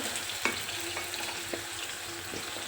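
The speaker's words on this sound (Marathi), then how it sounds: "इथे मी टोमॅटो तेलावरती छान असा परतवून घेतला" Tomato sautés in oil in a pan, a continuous close sizzle broken by a few light spatula scrapes and taps, with no voices.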